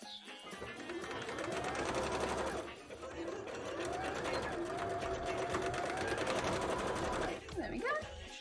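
A sewing machine stitching a zigzag seam on a costume bra runs steadily and close, a fast whirring chatter that pauses briefly near the middle and again near the end, with a voice murmuring faintly beneath it.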